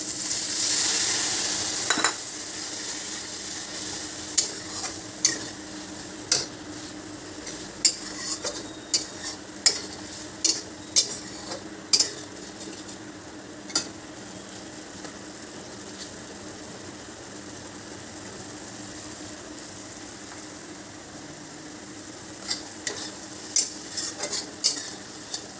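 Onions frying in a pan for a fish kalia, a steady sizzle throughout with sharp scrapes and clinks of a spoon stirring against the pan at irregular intervals, close and alone with no talk.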